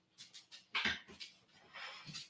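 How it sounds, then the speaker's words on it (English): A small dog makes a quick series of soft whimpering, snuffling vocal sounds close by, uneven and breathy over a couple of seconds. "I believe this is my dog."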